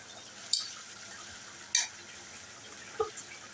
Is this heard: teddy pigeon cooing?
no